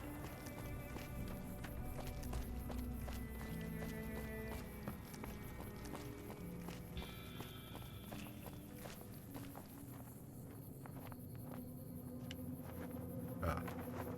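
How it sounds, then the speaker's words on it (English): A flag flapping in the wind in a video game, heard as a faint, irregular series of soft flutters and snaps that resemble footsteps, under a steady game backdrop. "I thought that was the sound of footsteps, and then I realized, no, it's just a flag."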